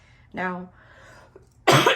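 A single harsh cough bursts out near the end, loud and close, after a short spoken word from a woman giving a tarot card reading.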